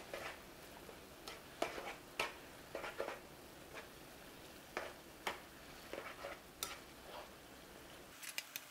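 Jjappaguri instant noodles being stirred with olive oil in a pot, with sharp scattered clicks and scrapes of a utensil against the cookware over a quiet background.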